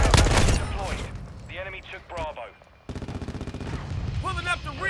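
Gunfire in Call of Duty Modern Warfare II: a sharp opening burst, then scattered shots beneath radio-style voice callouts, and a steady rapid automatic stream in the second half.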